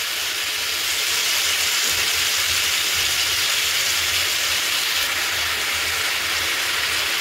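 Mixed vegetables (potato, carrot, radish and onion stalks) frying in a pan, a steady, loud, broadband sizzling hiss that continues without a break throughout.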